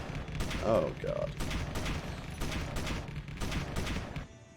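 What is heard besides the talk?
turrets firing in video game Space Engineers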